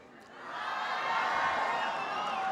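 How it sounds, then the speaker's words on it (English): Employees cheering and whooping for President Clinton at an MCI/UUNET staff event, a broad crowd roar swelling after half a second and holding loud and steady, with no clear clapping separated out. "I usually don't get that kind of applause"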